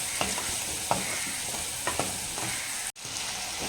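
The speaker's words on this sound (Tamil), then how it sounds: "தக்காளி நல்லா வதங்கிட்டு இருக்குது." Tomatoes sizzle in a pan for a village-style gravy, a steady frying hiss broken by several sharp scrapes of stirring and a brief sudden dropout near the end.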